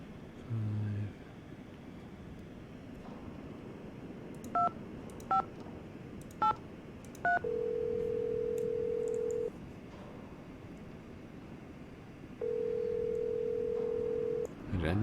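A landline telephone in the Nancy Drew game Treasure in the Royal Tower is dialed with four short touch-tone beeps, followed by two long steady ringing or dial tones separated by a quiet gap.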